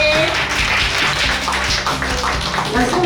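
Audience applause for the teachers at a summer camp closing ceremony, a dense, steady wash of many hands clapping at once that holds for a few seconds under a murmur of voices.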